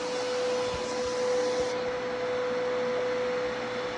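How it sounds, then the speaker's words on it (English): A vacuum cleaner runs steadily, clearing a floor being prepped for self-leveling mix, with a loud constant whine and hum and a few faint bumps of the nozzle against the floor. "We're starting to vacuum."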